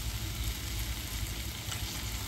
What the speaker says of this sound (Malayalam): നമുക്ക് ഇതിൻ്റെ സോസ് ഒഴിച്ച് കൊടുക്കാം